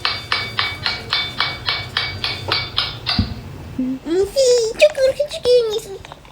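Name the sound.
hammering on the wheels of a toy skateboard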